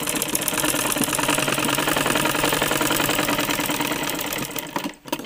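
A sewing machine stitching dress cloth, a close, loud, fast rhythmic mechanical rattle running steadily before slowing and stopping briefly near the end.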